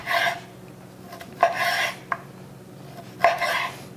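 A knife slices through home-cured, smoked slab bacon, cutting it into strips with repeated soft rasping strokes and a few sharp taps on the board, close and fairly quiet.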